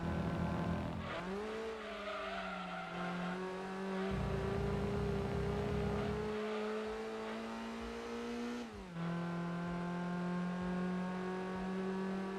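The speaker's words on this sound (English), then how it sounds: "it spits you out on the rev limiter" A race car engine in Gran Turismo 2 sits bouncing on the rev limiter, a loud steady buzzing drone whose pitch climbs and holds with brief steps, alone without talk.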